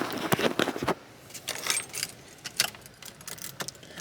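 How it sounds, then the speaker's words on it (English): Keys jangling at a Toyota Supra's ignition as the key is turned, a close, faint metallic jingle and rattle in several short bursts with quiet gaps. "When I turn the key, will the fuel pump prime?"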